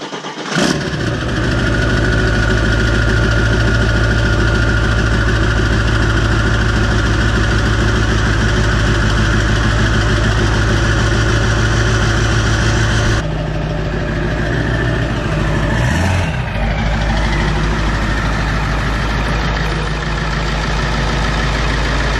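A Ford 7.3 Powerstroke diesel truck engine cranks and fires, then settles into a loud, steady, close-up idle that shifts slightly in tone partway through, with no talking.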